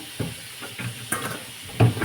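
Ginger garlic paste frying in a home kitchen pan, a steady soft sizzle broken by a few short scraping stirs of a spatula, close and fairly quiet with no one talking.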